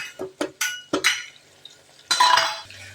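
Tomato being stirred and sautéed with a spoon in a pan while making sambar: several sharp metallic clinks and scrapes of spoon against pan, then a louder sizzling burst near the end, close up and without talk.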